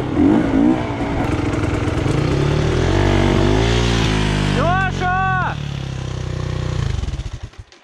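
A KTM 525 EXC dirt bike engine drones and revs steadily, close and loud, while riding over dusty hills, with a brief shout from a voice early on.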